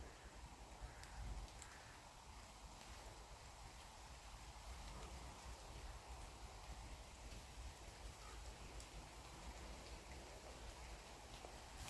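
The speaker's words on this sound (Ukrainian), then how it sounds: "Вон дивіться, як дощ капає." Steady, quiet patter of rain with scattered drops, a soft continuous hiss throughout and no voices.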